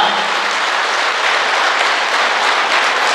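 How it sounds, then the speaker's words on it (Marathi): Loud, sustained audience applause for a kidney donor at an event, dense steady clapping filling the whole stretch without pause or voices on top. "पत्नी ह्या डोनरसाठी अशाच जोरात टाळ्या वाजवा"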